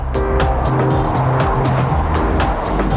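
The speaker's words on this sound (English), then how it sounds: "The BMW also wends its way around the slalom in a somewhat clumsy manner." A BMW 760Li weaves through a slalom. Its tires squeal in repeated bursts over a loud, continuous engine and road roar, heard close up.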